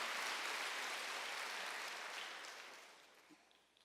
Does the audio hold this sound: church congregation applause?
yes